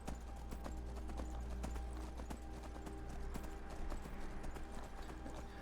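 A Skyrim horse trots with rapid, even clip-clopping hoofbeats close by over a low steady rumble, continuing throughout.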